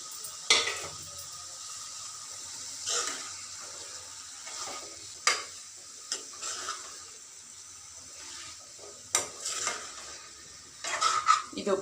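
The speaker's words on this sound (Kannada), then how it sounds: "ಆಲೂಗೆಡ್ಡೆನ ಸೇರಿಸ್ತಾ ಇದ್ದೀನಿ." Boiled, peeled potato pieces are stirred in a frying pan for an Indian palya, making intermittent scraping and clinking spoon strokes with a faint sizzle, fairly close and alone.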